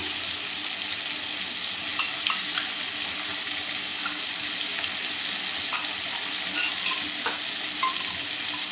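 Parshe fish sizzle steadily in hot oil with tomato ketchup added, a continuous bright crackling hiss with occasional spits and pops, close and unbroken, no voices.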